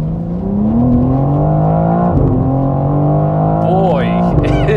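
A BMW M4 CSL engine pulls hard under acceleration, a loud continuous drone rising steadily in pitch with a brief dip near the middle as it shifts, while someone talks over it throughout.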